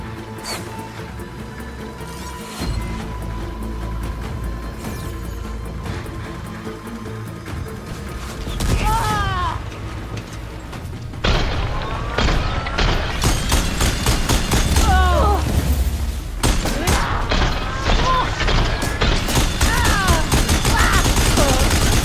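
Weapons fire in the video game Horizon Forbidden West, a dense fusillade of rapid shots and crashing impacts growing louder over a thick battle soundscape with sweeping effects, with no clear talk.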